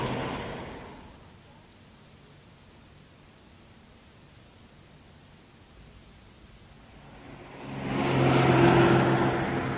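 A car speeds past: a rushing engine-and-tire whoosh fades out at the start, then a louder pass swells up near the end and roars briefly before easing.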